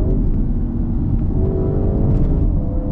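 An Audi RS6 cruises along a rough, bumpy road, its engine a steady, loud low rumble with a faint rising whine from inside the cabin and no talk.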